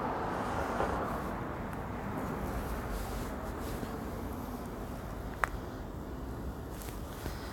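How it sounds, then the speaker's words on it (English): Steady road traffic rolling past on a main road at night, a continuous low broadband roar with no distinct individual vehicles, one brief sharp click partway through. "The only problem with going back out here is I've not got the wall to muffle the traffic going past the main road."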